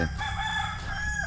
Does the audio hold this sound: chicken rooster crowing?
yes